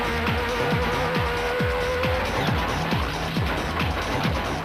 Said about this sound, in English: Hannes Krobler's SP Nissan Navara 4-litre growled along pretty rapidly